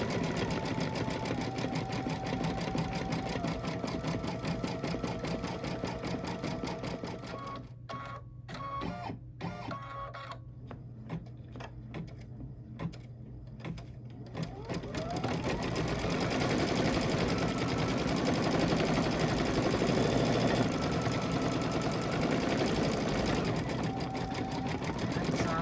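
An embroidery machine stitches lettering on a pillow panel in a continuous, rapid, loud mechanical chatter with brief pauses and thread-trim clicks midway, before the stitching resumes steadily.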